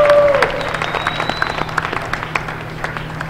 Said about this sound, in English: let's give Maria a round of applause